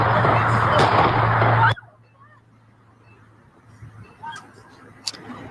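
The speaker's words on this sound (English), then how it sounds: "The sound of gunfire." A few sharp, loud bangs of gunfire ring out over a burst of noisy commotion at a school, then the scene falls nearly quiet, with one more distant crack near the end.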